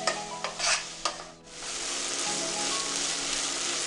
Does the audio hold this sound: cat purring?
no